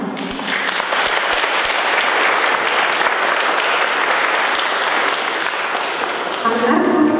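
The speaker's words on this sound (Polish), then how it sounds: "Wielkie brawa." An audience at an art exhibition opening claps for a painting prize winner. The sustained applause carries a few sharp individual claps early on, and a voice begins speaking over the tail.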